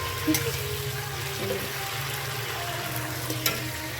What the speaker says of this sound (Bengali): এখন মশলাটা কষাচ্ছি বন্ধুরা